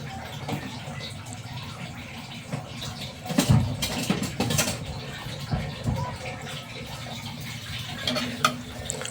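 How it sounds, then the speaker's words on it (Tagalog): Corned beef with garlic and onion is stirred in a pan, giving irregular scraping and clattering bursts over a soft background sizzle, with a voice speaking briefly between the stirs. "Halo-haloin lang natin"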